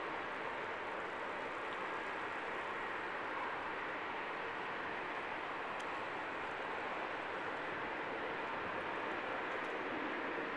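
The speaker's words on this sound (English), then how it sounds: "Here's a plane landing right now." A plane coming in to land overhead near National Airport, heard as a steady, loud broadband jet roar that holds evenly throughout, with no talking.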